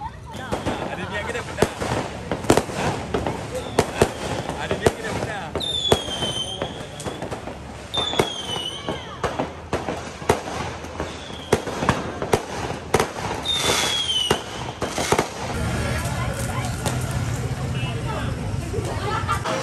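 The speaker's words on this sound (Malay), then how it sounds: "kita nak tengok orang duk main bunga api sini" Fireworks go off outdoors on an open field at an evening iftar gathering, a dense stream of sharp cracks and pops with occasional whistling rockets, set against a constant crowd babble and nearby voices talking.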